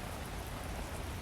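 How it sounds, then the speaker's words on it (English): Steady rain ambience playing as background during a tabletop game session, a continuous broadband hiss of falling rain with no distinct drops standing out, fairly quiet and unbroken throughout. "You just hear the rain at this point."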